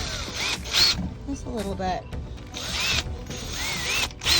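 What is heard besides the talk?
power drill drilling holes in a pet hutch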